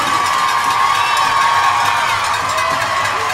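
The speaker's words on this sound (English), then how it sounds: "The crowd reacting." A hockey crowd at a Watertown Wolves game cheers and shouts steadily, a dense, loud roar of many voices that holds without a break after a goal celebration.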